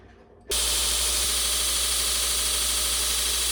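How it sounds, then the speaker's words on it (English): A homemade belt grinder starts up abruptly on a Damascus steel belt buckle and keeps up a loud, steady, close roar of motor and abrasive grinding until the end. "We're gonna do some grinding."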